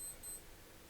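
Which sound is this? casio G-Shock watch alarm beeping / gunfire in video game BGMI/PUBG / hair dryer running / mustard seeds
casio G-Shock watch alarm beeping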